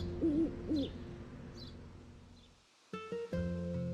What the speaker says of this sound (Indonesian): ini burung hantu loh.